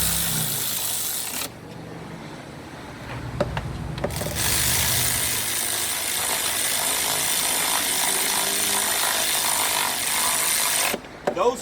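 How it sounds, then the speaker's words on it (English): An Earthquake XT electric ratchet from Harbor Freight drives a fastener while a starter is being replaced on a 2007 BMW X3, giving a loud, continuous buzzing whir with brief pauses and rattly bursts, close up and without talk. "Those who wondering what am I using, electric ratchet, the Earthquake XT"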